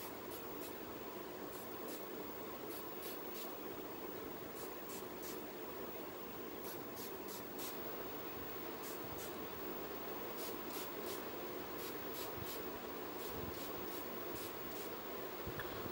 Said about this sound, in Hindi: या फिर आप इसी तरह का कोई एक स्प्रे बॉटल ले लीजिए जिससे आप अपने स्कैल्प को